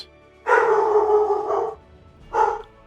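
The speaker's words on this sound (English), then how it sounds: "That's a dog." A dog barks close by and loud: one long, rough bark, then a shorter second bark after a brief pause, with no talking over it.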